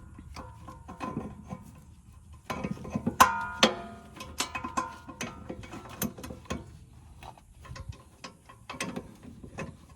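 A hand tool ratchets repeatedly while snugging rear brake bolts on a 2003-2006 Mazda 6, giving bursts of close, crisp clicking with short pauses between strokes.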